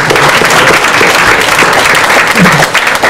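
A church congregation at a pastor's installation service claps loudly and steadily, a dense, continuous roar of hands filling the hall from start to finish.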